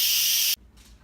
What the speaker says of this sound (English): we get to do the super fun thing of releasing the pressure